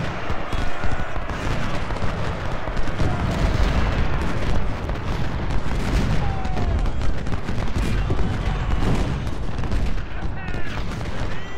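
Civil War battle in the game Ultimate General: Civil War, with dense rolling musket volleys and booming cannon fire rumbling continuously around a wooded position, loud and sustained throughout.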